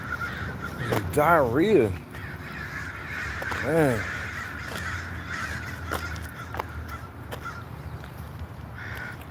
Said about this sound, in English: I don't like crows very much.